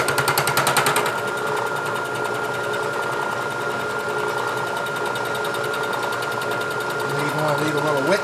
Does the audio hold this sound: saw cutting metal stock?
yes